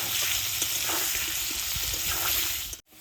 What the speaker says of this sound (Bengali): পরিমাণ মতো লবণ আর হলুদ তেল দেব আলুটা একদম লালি করে ভেজে নেব